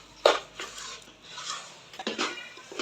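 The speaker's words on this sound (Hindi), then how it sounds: "चीनी को अच्छे से मिक्स करें तमाम सूजी में।" A spoon stirs sugar into semolina halwa cooking in a pan: a few soft, scattered scrapes and clinks, fairly quiet and close, with no talking.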